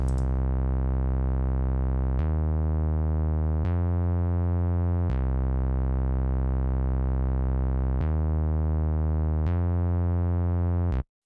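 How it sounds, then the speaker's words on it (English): Synth bass from a self-made Subtractor patch mixing a sawtooth wave with a sine wave for the low end, sustained buzzy notes that change pitch every second or so, played alone at an even level. "a Subtractor patch that I created myself with a sawtooth wave and a sine wave for the low end there"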